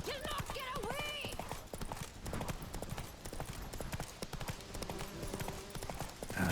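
Horse hooves gallop in a fast, steady clip-clop rhythm in The Witcher 3: Wild Hunt, loud and close, with brief shouted voices and game background sound layered over the hoofbeats.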